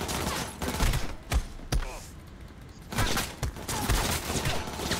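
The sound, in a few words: gunfire in the video game Cyberpunk 2077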